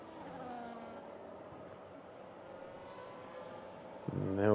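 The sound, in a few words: race cars overtaking in F1 video game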